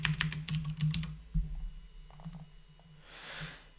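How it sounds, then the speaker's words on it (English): Quick burst of close keystrokes on a computer keyboard, several rapid clicks at the start, then a few scattered taps and a soft rushing noise over a steady low hum. "We can type in disk."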